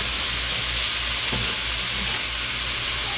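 Mushrooms frying in a pot for chicken fried rice, a steady loud close sizzle that fills the whole moment, with a faint stir or scrape partway through.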